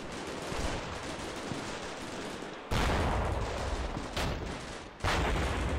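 Gunfire from a firefight in the video game Combat Mission Shock Force 2, a dense continuous crackle of rifle and machine-gun fire with heavier booming bursts cutting in, loud and sustained without speech.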